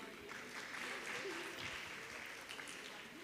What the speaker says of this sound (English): Have a huge round of applause for distinguished dignitaries.